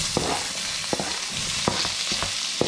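Thick onion slices go into vegetables already frying in a home kitchen pan, bringing a steady sizzle with several sharp stirring scrapes and clacks spaced through it, close by and without talk.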